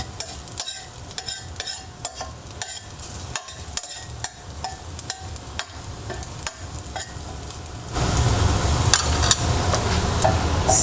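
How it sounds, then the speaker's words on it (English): Garlic frying in a pan over medium heat, with a steady sizzle and regular clacks of a utensil stirring it. The sizzle swells louder and denser near the end. "So our garlic is starting to brown. I have it on medium heat"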